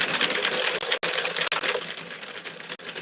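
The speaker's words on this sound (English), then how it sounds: "So clicky. So much louder than the other machine." A hand-cranked sewing machine runs in a fast, sharp, continuous clatter of clicks, loud and close, with a few brief pauses in the cranking.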